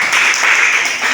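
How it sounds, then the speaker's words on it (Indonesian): Applause from a group of students in a classroom during a microteaching lesson, a brief burst of steady, dense clapping filling the room without pause. "Tepuk tangan buat kita semua."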